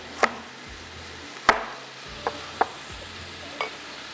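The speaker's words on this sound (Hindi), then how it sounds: "पहले सिर्फ चिकन के पीसेस डालूँगी, थोड़ी सी उसकी करेंगे बुनाई" Chicken pieces being browned in a pot for yakhni pulao: a low, steady background sizzle punctuated by about five sharp utensil knocks and scrapes as the meat is stirred, close, with no talking.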